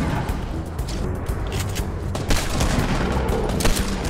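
Rapid gunfire in the Fortnite video game during a squad match, a dense continuous volley of shots with a couple of louder bursts standing out near the end.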